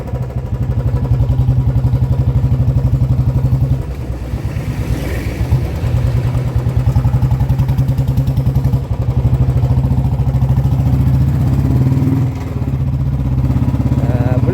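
A Royal Enfield 350 motorcycle fitted with an extremely loud aftermarket exhaust runs close by, giving a steady, heavy, throbbing engine note that keeps going from start to finish with small dips in pitch and level.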